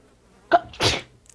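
A single sharp human sneeze, close and loud, a quick intake then a burst, with no talk around it.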